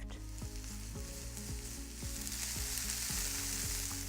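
Vegetables, likely onions, sizzle steadily in a frying pan, a constant close hiss with a faint low hum beneath and no voices.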